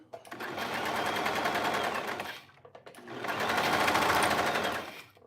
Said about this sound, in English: with the cover stitch, I'll move this back around where you can kind of see what I'm sewing